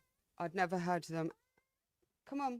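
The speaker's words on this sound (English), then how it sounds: "I'm going to try and stop my cat from meowing" A house cat meows briefly between stretches of a person talking indoors, its call close and overlapping the speech.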